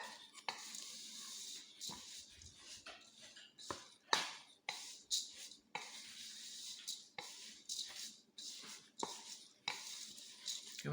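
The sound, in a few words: mixing rolled oats for granola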